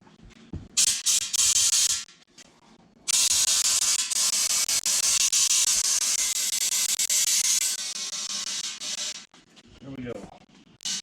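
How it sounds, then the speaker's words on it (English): A blow gun blasts compressed air into a side-by-side tire on a 7-inch rim to seat the bead, loud hissing bursts up close, one short and one long sustained blast, with brief pauses between. "I'm using a blow gun. I'm trying to get as much air into it as fast as I can."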